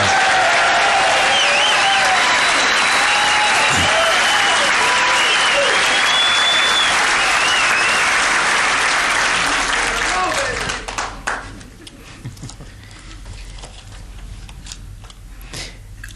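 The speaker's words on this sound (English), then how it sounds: "Let's give the young people a round of applause." Audience applause at a city council awards ceremony honoring young people, a dense sustained round of clapping that fills the room for about ten seconds and then drops away abruptly to quiet room tone.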